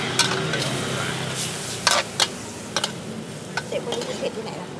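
Chicken tendon stir-fried with holy basil at a Thai street food stall, a constant hiss of frying under repeated clanging and scraping strokes of a spatula against the wok, with faint voices in the background.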